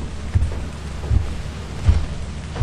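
Rainy weather in a video game: a steady hiss of rain with deep thunder rumbles rolling in about every second, loud and continuous with no talking.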